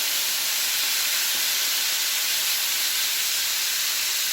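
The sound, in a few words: chorizo pan sizzling as onions are added for paella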